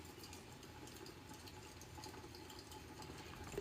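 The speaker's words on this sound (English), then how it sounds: "what you are hearing is it's like a little fireplace ambience that I'll put on" Steady crackling, hissing ambience with a constant watery rush underneath, continuous and even throughout, no voices.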